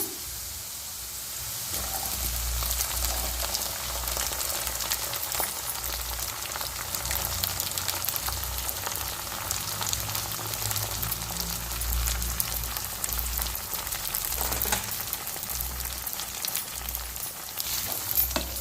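Sweet corn and green chillies frying in a pan, a continuous moderately loud sizzle with occasional scraping of a spatula and faint crackles, steady for a long stretch without speech.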